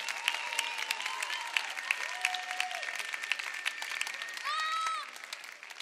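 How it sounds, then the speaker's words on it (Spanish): Steady audience applause for a drag performer at a drag gala in Corralejo, dense clapping with scattered cheers and whistles, sustained for several seconds before tapering off near the end. "Ahí está, fuerte el aplauso, Drag Hefesto."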